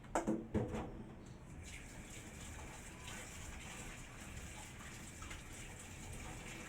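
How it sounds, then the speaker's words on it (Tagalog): Running water splashes and gushes steadily as radish and bitter gourd are rinsed, with a few louder clattering splashes at the start. "Ugasan ko naman po ngayon ng tubig ito."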